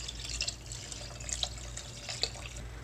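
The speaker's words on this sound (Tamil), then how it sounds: "நான் 3 கப் தண்ணி விடுறேன்." Three cups of water pour and splash softly into a cooking pot for biryani, a faint trickling stream with a few brief drips, quiet and close.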